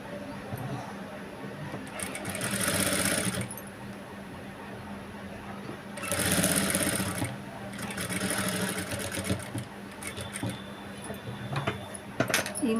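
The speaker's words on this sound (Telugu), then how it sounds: "మోల్ దగ్గర ఖచ్చితంగా సూది ఆపుకోవాలి సూది ఆపుకొని స్టిచ్చింగ్ చేసుకోవాలి" A sewing machine stitching thread piping onto a blouse boat neck with a normal presser foot, running in three distinct bursts of steady mechanical whirring separated by quieter pauses while the fabric is repositioned.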